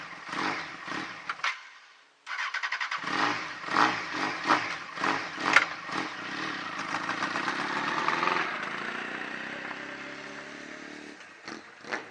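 A Honda CBR 929 Fireblade motorcycle engine runs close by, its loud, steady uneven idle rising in a series of revs before settling back, with a brief cut near the start.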